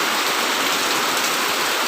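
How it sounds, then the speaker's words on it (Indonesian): Rain falls and splashes onto garden plants around a house in the rainy season, making a steady, dense hiss that stays even throughout, with no voices. "Ini ya senang nian kalau ada hujan memercik, itu hujannya kampiasnya ke tanaman tuh enak nian"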